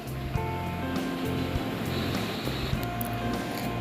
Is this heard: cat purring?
no